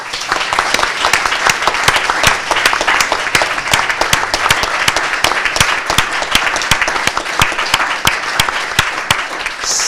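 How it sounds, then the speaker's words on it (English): A lecture audience gives a departing CEO a big round of applause, loud and sustained clapping from many people filling the room, with sharp individual claps standing out over a steady roar. "I wouldn't mind if you would all give him a big round of applause."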